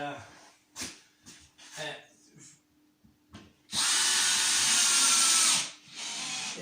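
A power drill drives screws into boards during a renovation, first under close talking with a few soft knocks, then a loud sustained whir of about two seconds, followed by a brief pause and a second spin starting.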